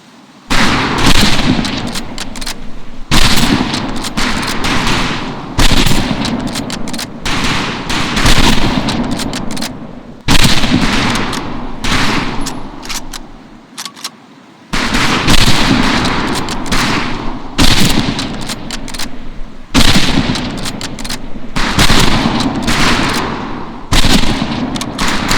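Rifle fire on a military firing range in Medal of Honor Pacific Assault, a long series of loud, close shots with brief echoing decays, coming in an uneven rhythm of about a dozen reports.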